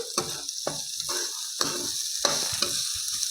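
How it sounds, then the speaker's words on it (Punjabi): Finely chopped onions fry and sizzle in a hot pan over raised gas heat while a spoon stirs them in repeated scraping strokes, about five distinct stirs over a steady close sizzle, no talking. "ਪਿਆਜ਼ ਨੂੰ ਵੀ ਆਪਾਂ ਵਧੀਆ ਜਿਹਾ ਭੁੰਨ ਲਾਂਗੇ"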